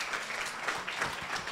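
Brief burst of audience applause for a panel at a municipal post-audit symposium, a dense clatter of many hands clapping at moderate distance.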